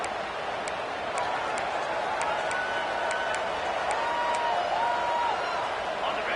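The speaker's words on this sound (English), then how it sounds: "Guns up, and so is the noise. The crowd electric, trying to help Tech on this third down." A packed stadium crowd roars steadily at a Kent State at Texas Tech college football game on third down, a broad sustained wash of cheering with whistles, under a commentator's voice.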